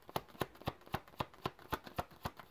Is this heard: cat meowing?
no